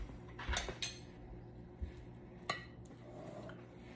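Frito corn salad is spooned from a mixing bowl into a serving bowl, with a few sparse clinks and scrapes of a utensil against the bowls, close by and quiet.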